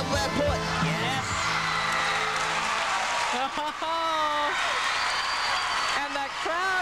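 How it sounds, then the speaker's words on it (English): Crowd noise at a 1997 girls' state gymnastics final, a dense continuous roar of cheering and whoops with applause underneath, loud throughout, while a commentator talks over it. "the crowd is going wild, and her team is mobbing her"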